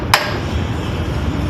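One sharp hammer strike lands on a wooden block, a single loud bright knock at the start followed by steady background noise.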